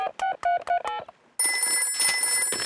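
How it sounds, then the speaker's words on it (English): A cartoon telephone being dialed: a quick run of separate tonal beeps at close range, then a short pause before a continuous bright ringing tone takes over. "I'll phone Grandpa Pig."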